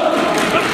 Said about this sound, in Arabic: ده الجمهور اللي بيقول مش انا